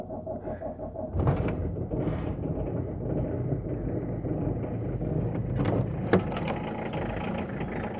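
A car engine cranks and catches at about one second, then settles into a steady low idle hum that runs on alone, with a light click near the end.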